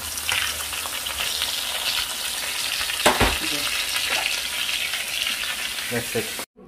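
Salmon frying in butter with black pepper gives a loud, steady sizzle up close, with one sharp clank partway through before the sound cuts off abruptly.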